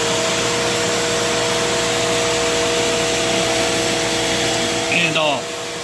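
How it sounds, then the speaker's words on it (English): A Ridgid table saw runs steadily alongside a shop vacuum, a constant loud broadband whir with steady hum, then winds down near the end. "Let me start the saw again."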